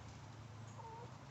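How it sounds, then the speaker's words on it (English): Chickens in a backyard garden coop give soft, low clucks and brief murmuring calls, close by over a steady hum of background noise. "In here is where the chickens roost."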